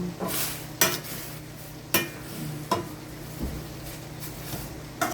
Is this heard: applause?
no